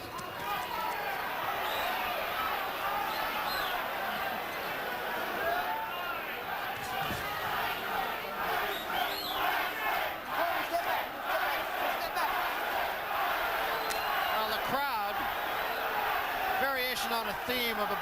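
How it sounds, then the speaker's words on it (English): Dense arena crowd roaring and jeering throughout a Mike Tyson versus James 'Bonecrusher' Smith boxing bout, a steady, loud wall of massed voices with swelling shouts, a commentator talking over it. "They are being booed"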